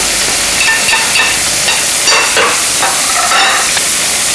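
Onion, garlic, peppers, parsley and basil sauté loudly in a pan, a close, constant sizzling hiss broken by scraping stirring strokes.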